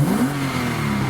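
A Porsche Boxster S engine revs up hard with a rising, then steady throaty tone, loud and close with no talking.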